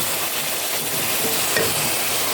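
Tomatoes cooking in a pan, a dense continuous sizzle with a faint clink near the middle, close and steady without any talking.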